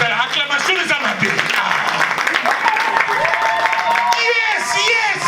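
A church congregation claps and cheers during a worship service, a loud crowd of applause and acclaiming voices under a preacher's shouted speech.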